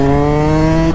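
A mini bike engine drones steadily on a sandy lot, a loud close buzzing hum with a strong even pitch and no change in throttle over a short moment.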